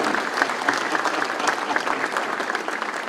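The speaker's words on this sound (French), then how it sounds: "Merci d'applaudir, bravo." An audience at an evening gathering in Algiers on a culture of peace claps together in sustained, even applause, steady and fairly close, with a few louder claps standing out and no voices over it.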